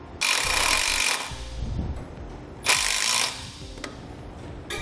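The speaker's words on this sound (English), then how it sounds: "I'm going to use a number 12 self-tapping screw" A number 12 self-tapping screw is driven with a power tool while connecting wiring on a Titan brake actuator solenoid valve, two loud whirring bursts, the first about a second long and the second shorter, with quieter handling noise between.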